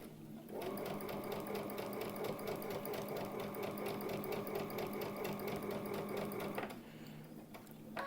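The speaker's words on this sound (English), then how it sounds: "now we're going to sew the 1/4 inch seam" A sewing machine stitches a quarter-inch seam on a quilt block, a steady close mechanical whir running for about six seconds before stopping.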